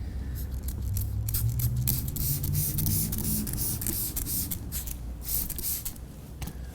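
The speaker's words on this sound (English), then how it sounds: "So first I'm going to spray the surface of the headlight with plenty of water, and then I'm going to spray this block." Water sprayed in repeated hissing bursts from a spray bottle onto a plastic car headlight and a sanding block during headlight restoration, close and fairly loud, with no talking.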